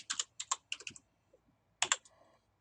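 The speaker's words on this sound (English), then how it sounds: "And type an answer." Typing on a computer keyboard, a quick cluster of about eight crisp close key clicks, a short pause, then a few more taps, quiet and with no voices.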